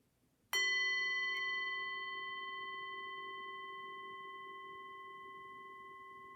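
A single mindfulness bell is struck once, ringing out with a clear, pure tone that sustains and slowly decays in an otherwise quiet space.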